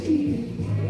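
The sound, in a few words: pigeons cooing while being fed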